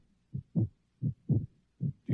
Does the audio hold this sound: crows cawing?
no